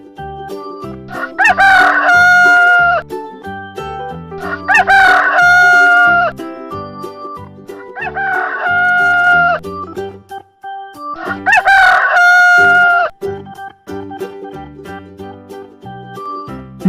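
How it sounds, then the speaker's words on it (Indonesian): A rooster crows four times in a row, each loud, drawn-out cock-a-doodle-doo call ringing close by and separated by short pauses, with faint clucking from farm fowl underneath. "Ayam jantan."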